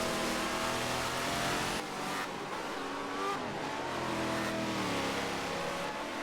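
Race car engines roar and rev continuously in the video game Forza Motorsport 7, pitch rising and falling as the cars accelerate and shift, with steady road and tire noise on a wet Nordschleife, no talking.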